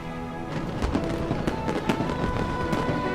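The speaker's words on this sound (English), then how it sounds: "The fireworks are beautiful." Fireworks burst in the video game Genshin Impact during the Lantern Rite festival, with repeated crackling pops and booms over a dense, continuous festive wash of sound.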